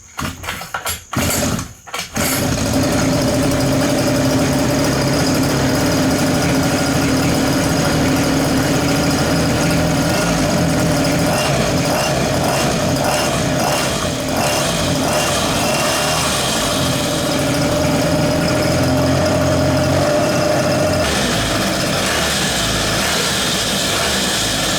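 A rebuilt mini bike's small gasoline engine catches after a couple of brief cranking bursts, then runs loud and steady at a buzzing idle, with the throttle shifting slightly near the end.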